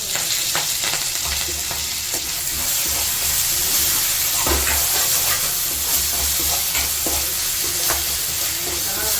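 Curry leaves frying in a pan of oil for chicken curry: a steady, close, loud sizzle and crackle with occasional stirring clicks throughout, no voices.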